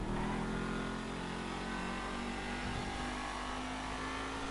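The Vapid Ellie muscle car in GTA Online holds a steady, loud engine drone at high revs, a continuous roar with a slight dip partway through, no voices over it.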